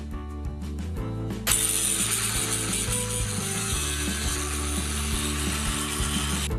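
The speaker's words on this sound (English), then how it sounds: "Remove the grinding burrs and clean the surfaces." Metal being ground and cleaned of welding burrs ahead of lap-joint tack welding, a steady harsh mechanical whir with ratcheting texture that builds sharply after a brief start and runs loud and continuous with no talk.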